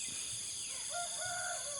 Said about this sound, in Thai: ฟังเสียงไก่ขันครับผม